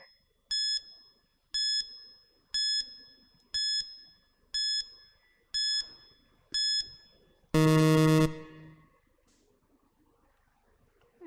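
Electronic quiz timer beeps at a steady one-per-second pace, seven short tonal pips, then a longer, louder buzzer blast marks time up, followed by near silence in a conference hall.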